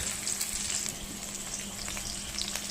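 Onion fries in hot oil in a karahi along with cloves, cardamom and cinnamon, giving a steady, close crackling sizzle with scattered pops and a faint low hum beneath. No one talks.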